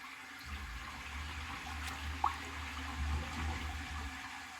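A yellow 1977 Briggs Abingdon toilet flushes on a test stand: soft, steady rushing and gurgling water with a low hum, faint and continuous, with a small splash partway through.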